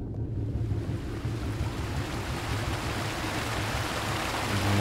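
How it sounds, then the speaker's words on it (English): Water rushing in the video game Daydream: Forgotten Sorrow, a loud, continuous wash like surf or a stream that swells slightly toward the end, with no voices. "Water"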